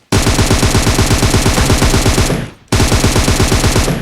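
Rapid automatic gunfire in a battle royale video game rattles loud and close in a sustained burst, briefly cuts out, then resumes at the same fast steady rhythm.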